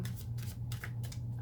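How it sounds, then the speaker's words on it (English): A deck of cards is shuffled in several quick riffled bursts, crisp and close, over a steady low hum with short pauses between the flurries. "I'm gonna just do one final shuffle to make sure we have everything"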